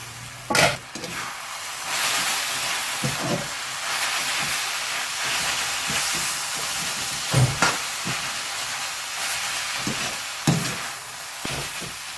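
Moringa leaves and egg stir-frying in a pan give a constant close sizzle and hiss, punctuated by several sharp scrapes and knocks of a spatula against the pan, with no one speaking.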